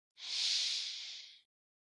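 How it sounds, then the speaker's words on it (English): A long, steady sniff drawn in through the nose during a guided breathing exercise, a single breathy inhalation lasting over a second, close and alone. "Take a long sniff in through your nose"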